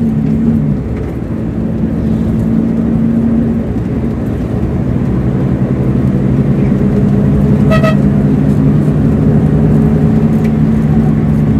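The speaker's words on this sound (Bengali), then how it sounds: "এই বাসের পিছনের দিকে যে সিটগুলো রয়েছে সেই সিটগুলোতে ভ্রমণ করতে গেলে অবশ্যই ইঞ্জিনের নয়েজ" A Greenline Man Cla bus engine drones loud and steady from the rear seats on the Barishal to Dhaka journey, a constant deep hum with a brief horn toot in the middle.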